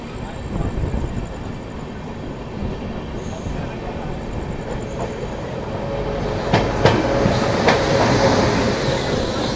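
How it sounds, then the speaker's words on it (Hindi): The Sampoorn Kranti Express, on its Rajendra Nagar to New Delhi run, pulling into Arrah Junction station with a loud, steady rail rumble and clatter that builds slightly, punctuated by sharp metallic clicks near the end. "यहाँ पर अभी अपनी संपूर्ण क्रांति एक्सप्रेस पहुंच रहे अपने पहले हॉल्ट आरा जंक्शन रेलवे स्टेशन पर।"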